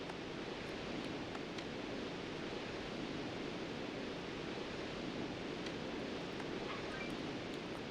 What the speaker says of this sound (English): The great waterfall of the heavens.